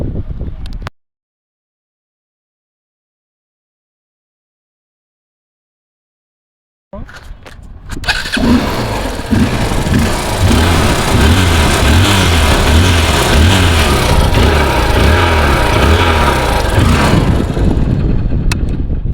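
A used 2020-model Hero Hunk 150 motorcycle in good condition starts after a brief sound and several seconds of silence, then its engine runs loud and steady with a rough mechanical rumble until the end.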